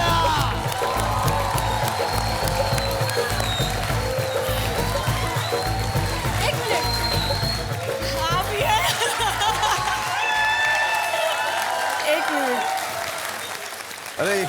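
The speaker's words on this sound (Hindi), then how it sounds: "तालियां!" A studio audience at a televised game show bursts into sustained applause with cheering and scattered laughter, a dense steady wash of clapping that holds for many seconds before tapering off.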